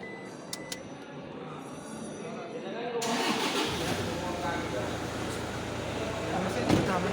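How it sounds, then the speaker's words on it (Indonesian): A car engine cranks and fires up after its battery is replaced, jumping from quiet ticking into a loud, steady idle rumble that continues to the end. "Mesin sudah menyala"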